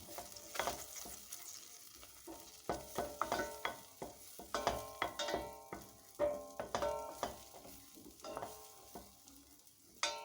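A tablespoon of butter melts in a pan for a chicken soup, a faint, quiet sizzle broken by repeated scraping strokes of a spoon against the pan in an irregular rhythm.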